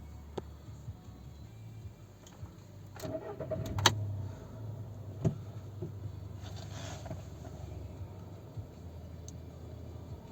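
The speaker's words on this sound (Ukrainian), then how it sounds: "Заведемо, послухаємо, як працює двигун." A 2007 VW Touran 1.6 MPI petrol engine idles steadily with a low, even rumble, broken by a few faint clicks and knocks.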